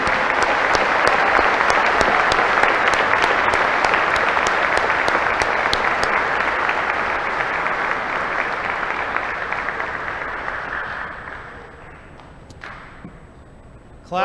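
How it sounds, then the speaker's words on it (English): Sustained audience applause fills a graduation ceremony hall, loud and steady for about ten seconds before gradually thinning out and fading toward the end, with a few scattered claps lingering. "please give a round of applause to the organization and individual contributors"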